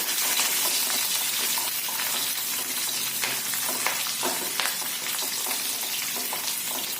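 Steady, close crackling sizzle of chopped garlic and ginger frying in hot oil, with occasional stirring clinks, continuous throughout.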